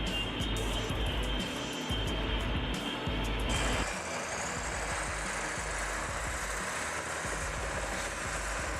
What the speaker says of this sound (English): ground shakes as a caterpillar-dozer-scraper combo charges forward, ripping into the earth with unstoppable force.